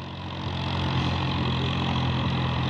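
A Massey Ferguson 7250 DI tractor hauling a fully loaded trolley, its diesel engine building from a lower note to a steady, loud drone that holds without a break.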